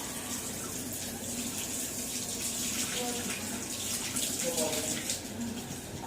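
Water swirling and rushing as a homemade water tornado forms, a steady close splashing hiss with faint gurgles, no talk over it.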